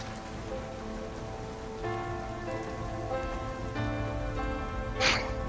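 Heavy rain patters on surfaces in ambience for a Game of Thrones tabletop role-playing session, a constant close hiss of drops layered with sustained low musical tones and a brief brighter splash near the end.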